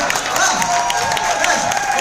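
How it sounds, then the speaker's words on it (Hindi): Loud applause and cheering from a crowd at a motivational talk, a dense, steady wash of clapping that fills the whole two seconds without a break. "राइट, बस जोरदार ताली हो जाए मेरे लिए"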